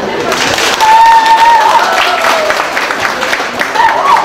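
Audience applause at a workshop of a Korean singing instructors' association, a short burst of clapping from the crowd under a voice speaking, with a tonal note sounding through it.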